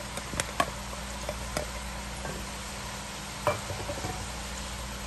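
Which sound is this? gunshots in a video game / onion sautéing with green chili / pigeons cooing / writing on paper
onion sautéing with green chili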